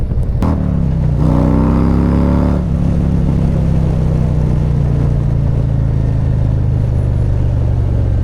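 A 2024 Harley-Davidson Street Glide with a Stage Two kit, over 800 pounds, revs hard and accelerates, a loud rising roar that settles into a steady, deep drone.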